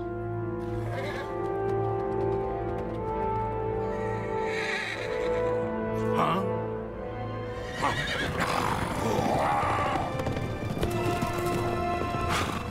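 A horse neighs and whinnies in the LEGO Lord of the Rings video game, set over steady sustained game music, with other brief animal calls and some clip-clop movement later on.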